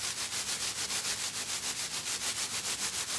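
Two ends of a flexible object rubbed together make a steady, gritty sandpaper-like rasp, pulsing in quick regular strokes throughout.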